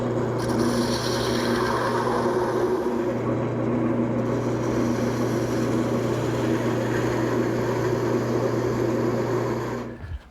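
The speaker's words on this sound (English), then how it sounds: "Now I'm going to switch to a smaller gouge to cut in the details." A smaller gouge cuts details into a spinning wooden chair part on a lathe, with a steady, loud scraping rasp over the motor's constant hum for about ten seconds before it stops.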